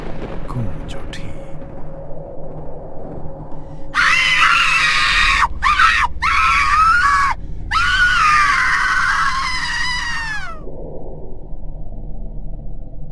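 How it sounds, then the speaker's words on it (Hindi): A terrible scream rings out along a street as a burning doll is thrown into the fire, loud and wavering for several seconds with short breaks, over a low rumbling background. "गुड़िया जलते ही पूरी सड़क पर भयानक चीख गूंज उठी।"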